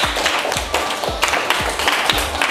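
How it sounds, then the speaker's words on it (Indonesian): A classroom group applauds for a presenting team, with uneven, fairly sparse hand claps and a few heavier thumps repeating through a short stretch, close and moderately loud, with no talking. "Tepuk tangan untuk kelompok 2."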